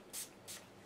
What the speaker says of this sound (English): Now what I would do is just spray